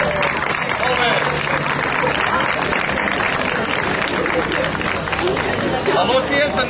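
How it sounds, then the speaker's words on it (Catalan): An audience applauds loudly at an open-house chemistry demonstration, with dense clapping and crowd noise held steady throughout. "Ja l'heu aplaudit fort?"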